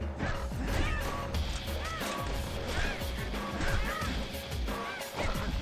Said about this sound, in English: Being attacked by birds.